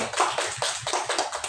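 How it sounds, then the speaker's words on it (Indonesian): A group at a school gathering claps hands in quick, rhythmic bursts, about seven crisp claps in close succession, moderately loud and close, with no talk over them. "Tepuk tangan dulu."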